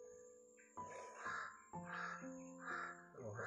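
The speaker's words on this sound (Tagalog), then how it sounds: "ay may uwak dito sa malapit namin." A crow caws nearby in a series of about four loud, harsh calls spaced roughly half a second apart, over a faint steady background hum.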